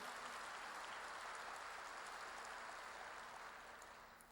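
A church congregation claps together in a sustained, even burst of applause that holds steady, then gradually fades toward the end, with no speech over it.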